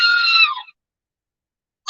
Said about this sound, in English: I think we need the scream again.